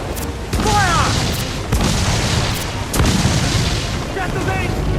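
Ship cannons in the Assassin's Creed 4 Black Flag naval combat fire as several heavy booms spaced about a second apart, with voices shouting over them and an orchestral score behind.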